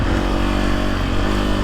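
A Sherco 450 SEF Factory enduro motorcycle, running poorly, idles and rumbles up close on a green lane ride, a steady, loud engine drone with no talk.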